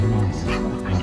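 Dogs yip and bark close by, a few quick overlapping calls with whimpering tones.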